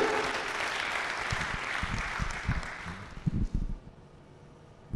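A church congregation applauds for several seconds, a dense patter of clapping that thins and turns uneven toward the end before dying down, heard fairly close without any speech.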